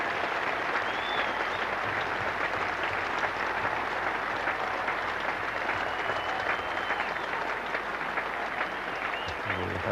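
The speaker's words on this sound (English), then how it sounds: "Healthy round of applause too for him." Steady applause ripples around Lord's from the cricket crowd as Ranatunga reaches fifty for Sri Lanka against England in 1984, a broad, even wash of clapping sustained throughout with no talk.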